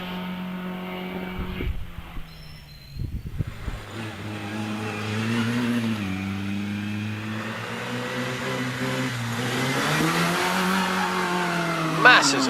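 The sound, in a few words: Riley 9 Special race car engine at hill climb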